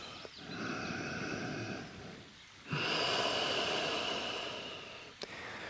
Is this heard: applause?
no